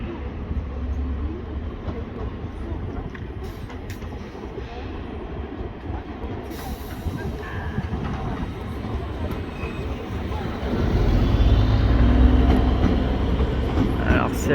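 A NAT commuter train manoeuvres on tracks at Val d'Argenteuil station, a continuous distant rumble of rolling stock that swells louder toward the end, with a voice talking over it.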